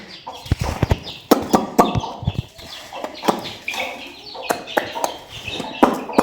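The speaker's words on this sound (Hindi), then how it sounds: "ये देखिए छोटे छोटे चूजे, और ये इनकी अम्मा" Chicks and their mother hen peck and cluck while being fed grain at a family home, close irregular clucks and cheeps mixed with sharp taps and scattered grains, some voices in the background.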